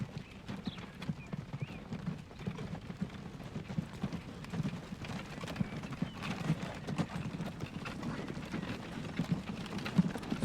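A horse's hooves clip-clop steadily uphill in the video game Transport Fever 2, a continuous, fairly quiet rhythm of soft hoof strikes with faint background texture and no speech.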